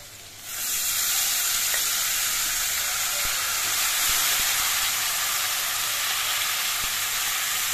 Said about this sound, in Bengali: এবার এর মধ্যে আমি থোড়গুলো দিয়ে দিয়েছি।